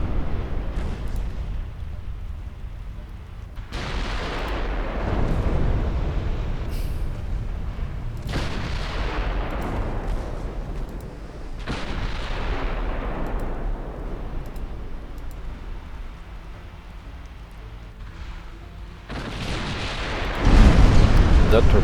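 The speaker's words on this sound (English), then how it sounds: "they actually struck their own ship with torpedoes." Heavy naval gunfire and torpedo hits in the video game Ultimate Admiral Dreadnoughts: deep booms roll out every few seconds over a low rumbling battle bed, with a louder blast at the end.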